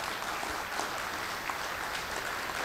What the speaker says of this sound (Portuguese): que a mesa agora deste uma salva de palmas para os participantes que estão aqui